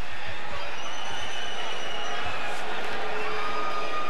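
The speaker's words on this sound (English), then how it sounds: "Crowd is chanting Marquez, Marquez, Marquez" A boxing arena crowd chants a fighter's name before a Bradley versus Marquez bout, a dense roar with rhythmic group shouting, steady and loud.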